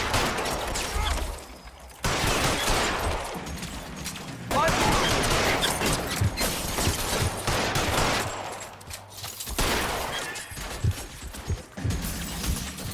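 Gunfire in the video game L.A. Noire, repeated shots in bursts spread across a busy shootout with other game effects, and voices talk at times in between.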